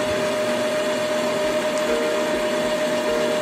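A steady mechanical whir and hum from an Epson L3110 inkjet printer charging its ink, running continuously at close range, with a faint rhythmic ticking underneath.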